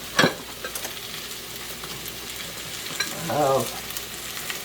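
Large cubes of lamb for a Berber tagine hit a hot pan, giving a soft steady sizzle with a brief clatter at the start and a short stir partway through, under a few spoken words.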